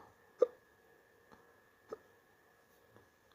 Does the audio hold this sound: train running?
no